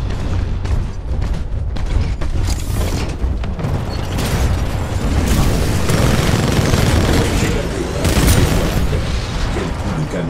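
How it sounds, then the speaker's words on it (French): Heavy booms and explosive bursts from cannon fire in the video game Titanfall 2, mixed with mechanical clanks, dense and loud throughout, peaking in several powerful blasts. "Quel coup de canon."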